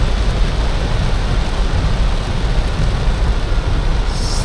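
Heavy rain pours in a dense, loud, unbroken hiss near a churchyard on the island of Grenada, with water rushing toward a flooding river and no voices.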